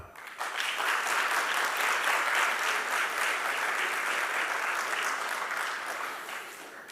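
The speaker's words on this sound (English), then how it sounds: "So for those in the House who believe that democracy can benefit from authoritarianism, please clap now" Theatre audience at a democracy forum clapping to cast a vote, applause swelling quickly after a brief start, holding strong, then tapering slightly toward the end.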